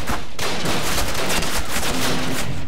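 Loud, dense gunfire from the Call of Duty PC game, a continuous barrage of rapid shots and blasts layered over one another throughout, with no pause.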